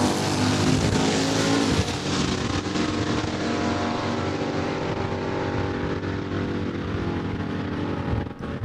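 Drag racing cars roar down the strip at Saskatchewan International Raceway in Saskatoon, a loud, dense engine roar that holds steady for several seconds before easing slightly and fading toward the end, with no talk.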